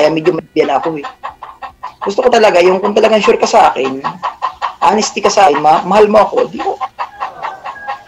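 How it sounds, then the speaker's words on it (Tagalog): Chickens cluck in the background while a person talks steadily over them, the clucking partly masked by the voice. "Mga ganyan yung tunog eh. Tunog ng manok."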